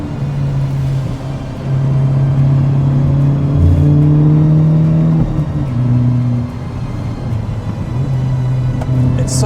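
A 2022 Hyundai Elantra N revving hard under acceleration, its engine note climbing steadily in pitch through several rising sweeps, dropping briefly between gears, and loud and close throughout.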